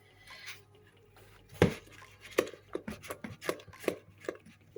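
A spoon stirs flour into sugar-free cookie dough in a mixing bowl, giving close, irregular knocks and scrapes against the bowl over faint background hum, with no talking.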